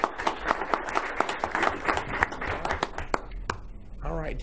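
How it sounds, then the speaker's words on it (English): A modest audience claps at a government proclamation ceremony, a sparse, uneven patter of individual hand claps close by that thins out before someone begins speaking. "We'll give you a hand of applause."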